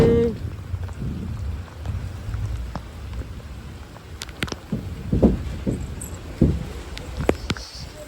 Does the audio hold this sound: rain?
yes